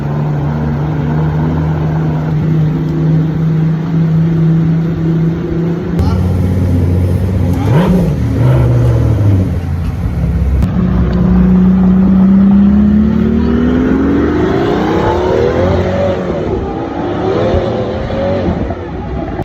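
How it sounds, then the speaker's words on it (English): A Pagani Utopia with a Mercedes-AMG 6-liter twin-turbo V12 in Need for Speed No Limits drones steadily, then revs and climbs through rising gear pulls, loud and close throughout with narration over the engine. "equipped with a 6-liter twin-turbocharged V12 engine from Mercedes-AMG"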